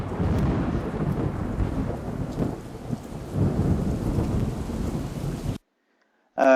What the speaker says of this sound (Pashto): تاسو ته بیا دغه ویب سایټ کې د باران اواز لګیږي